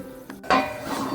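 A spice mixture sautéing in oil in a pan, with a quick metallic clink of a utensil against the pan followed by a low, soft sizzle.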